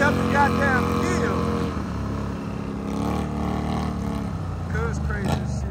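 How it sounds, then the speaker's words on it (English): An ATV engine straining as the rider wheelies up a steep hill on dirt trails, a steady loud drone that rises and falls, with people talking over it close by. "He riding a wheelie up the goddamn hill."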